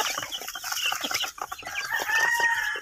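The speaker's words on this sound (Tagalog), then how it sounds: "Dumami na yung manok natin." Several chickens cluck and squawk together at close range, a busy overlapping flock with no talking.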